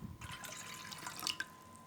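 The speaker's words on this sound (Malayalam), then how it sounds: "ഇനി നമുക്ക് വിനാഗിരി അതിലേക്ക് ആഡ് ചെയ്ത് കൊടുക്കാം." Vinegar poured into water while mixing a homemade all-purpose cleaning spray, a light splashing trickle lasting about two seconds with a few brighter drips near the end, close and fairly quiet.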